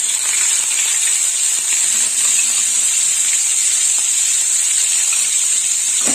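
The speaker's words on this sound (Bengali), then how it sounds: "পেঁয়াজটা একটু লাল লাল করে ভাজা হবে" Onion paste sizzles in hot oil in a pan, a steady bright hiss that holds evenly throughout at close range with no talking.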